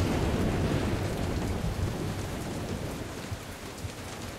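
Steady heavy rain and storm noise from the Jurassic Park: The Game video game, a dense broadband wash with low rumbling thunder underneath, loud at first and easing slightly, with no voices.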